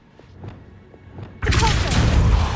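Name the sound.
Accio summoning spell cast, from video game Hogwarts Legacy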